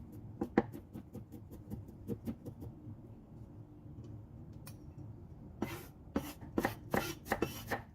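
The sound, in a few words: knife coarsely chopping garlic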